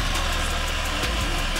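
Engine of a Belarus tractor in the off-road driving game Mudrunner, a steady loud rumbling drone throughout.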